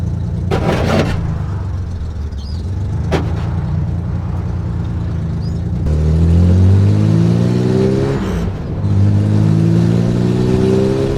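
A car engine revs up through several gear changes while driving, heard from inside the cabin as rising whines that climb, drop and climb again, with a couple of bumps early on.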